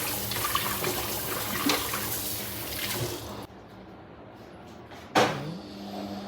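Chicken feet being washed under a running tap, a steady rush of water for several seconds that cuts off, then a single knock or clunk in a quiet kitchen.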